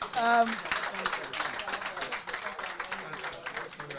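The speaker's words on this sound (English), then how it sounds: "A round of applause, please" An audience claps in a round of applause at a football federation signing ceremony, steady mixed clapping sustained through the moment with a speaking voice over it.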